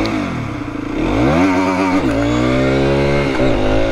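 125cc motorcycle pulled up in second gear for a wheelie, its engine revving loudly with rising and falling pitch sweeps, close and continuous with no talk.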